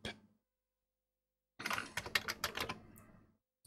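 Keys on a Commodore 64 keyboard clack quietly in a quick, irregular run of typing that follows a brief pause, with no talk.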